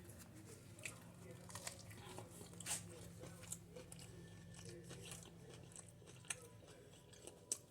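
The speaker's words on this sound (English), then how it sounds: "Going in on the steak taco." Someone bites into and chews a Chipotle steak taco close to the mic, giving soft crunches and wet, squishy chewing in an irregular rhythm at a quiet level.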